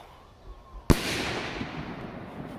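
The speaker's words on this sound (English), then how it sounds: "that has exploded very high in the sky" A bottle rocket firework bursts high overhead with a single sharp crack, followed by a long fading rumble and hiss that trails off in the distance.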